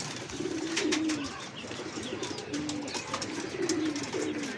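Several pigeons coo softly on a rooftop in repeated low, rolling phrases over a steady outdoor background hiss.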